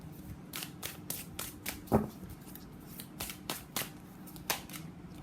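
Tarot cards being shuffled and pulled by hand, a series of quick crisp riffles and slaps arriving in an uneven rhythm, close and moderately loud, with no talking over them.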